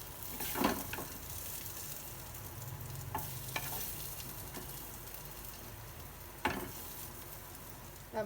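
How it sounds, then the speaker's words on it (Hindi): Steady, soft sizzling of tempering spices frying in hot oil for ridge gourd curry, with occasional stirring clicks and scrapes close by. "अब सब्जी में तड़का लगा देबै"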